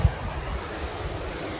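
A waterfall along a Colorado hiking trail gives off a steady, close rushing roar for under two seconds, with a low thump of wind buffeting the microphone at the start.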